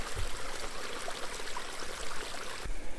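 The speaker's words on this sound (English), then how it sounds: "There's a lot of water moving through here right now." Spring snowmelt water rushing through a woodland stream, a steady, fairly close babbling flow with small gurgles and splashes throughout.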